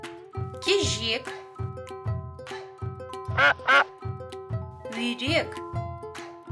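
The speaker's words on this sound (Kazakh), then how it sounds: "Үйрек." A duck in a children's animated cartoon about farm animals quacks several times in loud, close bursts spaced out over a bouncy musical backing.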